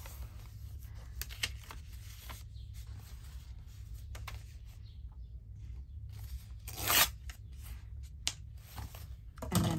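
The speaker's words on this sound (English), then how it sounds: "So let's tear this off." Paper is torn from a handmade envelope journal in a hardcover, heard as several short, crisp ripping bursts. They are spread irregularly, with a louder tear near the middle, over quiet room noise, and no one speaks.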